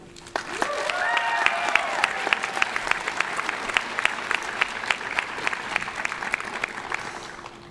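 Graduation audience at the Early College Academy ceremony, class of 2022, claps steadily in a large hall, individual claps distinct amid a sustained round, with a few cheers and murmured voices near the start.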